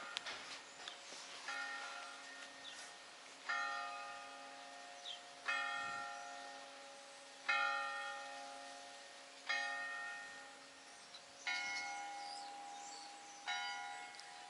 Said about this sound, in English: listening to the bells